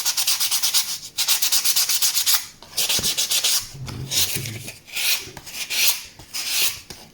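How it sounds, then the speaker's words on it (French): Polystyrene foam being sanded by hand to shape its edges for a diorama model, a close, loud, rhythmic rasping of repeated strokes in bursts, with brief pauses between passes. "Et puis le polystyrène poncé"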